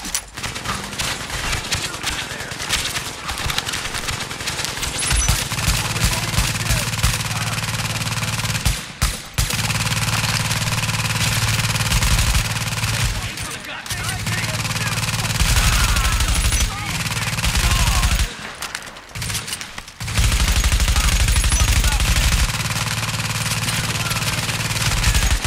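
A sentry gun in The Division, during a hard solo run through Madison Field Hospital, fires dense rapid machine-gun bursts broken by a few brief pauses, loud and sustained, with game sounds layered beneath.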